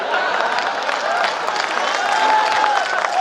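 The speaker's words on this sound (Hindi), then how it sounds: "आप जोरदार ताली बजाओ" Audience at a Hindi comedy poetry recital (kavi sammelan) in Rajnandgaon applauding, a dense, steady wash of clapping from a crowd, fairly loud and sustained throughout.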